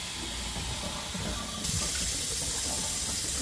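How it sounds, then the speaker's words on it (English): Sprouting seeds get a thorough rinse under a steadily running tap, the water hissing continuously into a sink and growing a little louder and fuller partway through, with no talking. "We're going to give them a good rinse."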